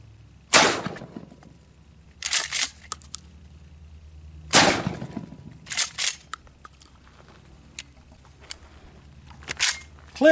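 Two pairs of sharp rifle reports from a 50 BMG and incendiary rounds striking fiberglass armor, each loud crack followed by a second impact bang, spaced about four seconds apart with quiet between.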